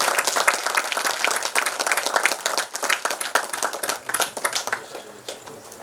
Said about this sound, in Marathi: त्यांच्याकरता जोरदार टाळ्या होऊ द्या